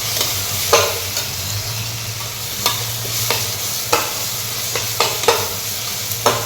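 Spices, turmeric and chili powder, being sautéed in a pan: a steady close sizzle with sharp scraping stir strokes every second or so.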